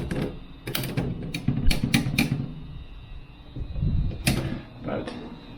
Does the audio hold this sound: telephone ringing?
no